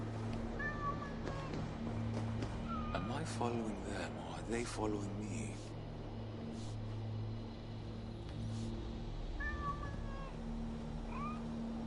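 Video game cats meowing in Asgard, Freyja's cats, with several clear mews scattered through the stretch over a steady background hum, someone talking in the middle.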